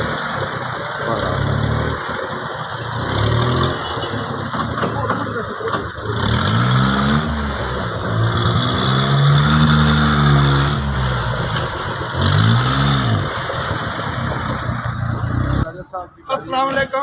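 A used car for sale at a dealer's lot runs and revs during a test check, the engine rising and falling in several close, loud swells while people talk over it.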